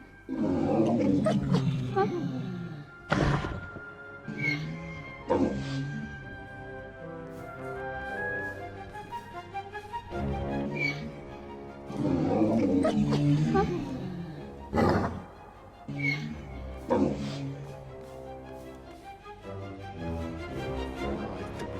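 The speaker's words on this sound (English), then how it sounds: "You're a fine dog." Cerberus, the giant three-headed dog in Hades II, lets out deep growls and roaring snarls in several loud bursts over a layered game soundtrack.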